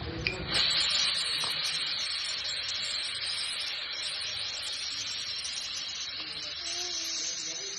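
Okra 65 frying in hot oil until golden, giving a steady, close, continuous sizzle and hiss throughout with no talk.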